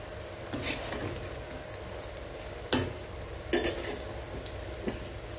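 Bottle gourd pakoda frying in hot oil, a steady close sizzle running throughout with a few sharp clinks of a utensil against the pan.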